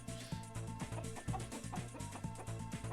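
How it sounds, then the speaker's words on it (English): Chickens cluck in a video game's ambient soundscape, a steady run of short repeated clucks over a busy, dense background of game sounds, fairly close and continuous. "This actually has some ambient sounds. The chickens clucking."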